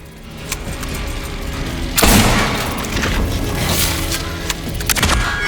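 Gunfire in the Silent Hill 2 remake: a heavy booming shot rings out loudly amid ongoing game sounds, followed by scattered smaller bangs and mechanical clicks.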